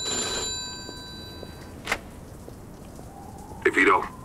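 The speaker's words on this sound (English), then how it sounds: "Oh, phone ringing." An old-style telephone bell rings inside a run-down apartment in Mafia 2, with short metallic rings against steady rain outside and a voice speaking briefly.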